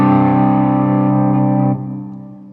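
Guitar chord played through a Jester valve overdrive pedal, a thick distorted tone with chorus-like shimmer that sustains loudly, then drops and fades at the end.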